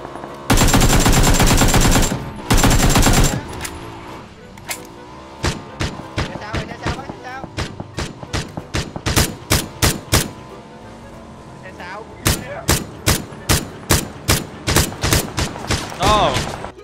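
Rapid bursts of automatic gunfire in a video game, loud and close, with long sustained volleys followed by rhythmic runs of single shots and short bursts, while players talk and call out over the shooting.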